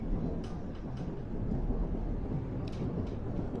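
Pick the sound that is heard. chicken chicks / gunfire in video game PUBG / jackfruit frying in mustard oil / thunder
thunder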